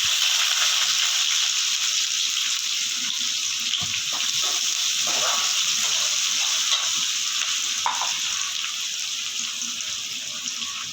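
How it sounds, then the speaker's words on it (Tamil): Onions frying in hot oil with chana dal in a home kitchen pan, a steady bright sizzle with a few stirring scrapes, close and continuous, no speech. "கடலைப்பருப்பு இப்போ கொஞ்சம் நல்லா வெந்துருச்சு இப்போ வந்து வெங்காயம் போட்டுக்கலாம்"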